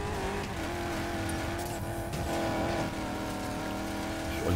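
Race car engine roaring steadily in the Need For Speed video game, a loud continuous drone with a sustained tonal whine that swells toward the end as the car takes a turbo boost.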